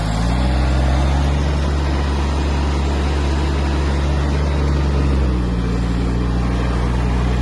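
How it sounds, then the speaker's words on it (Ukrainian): A Kubota A-195 Japanese mini tractor engine runs steadily while the tractor turns, a loud, even low diesel drone with a slight drop in pitch near the end, no voices. "Трактор розвертається в такому режимі набагато швидше."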